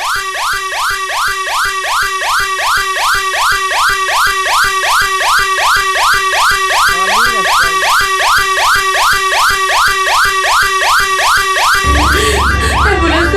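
An ambulance siren wails in steady rapid repeating cycles, loud and close in traffic, cutting off abruptly near the end into low rumbling road noise.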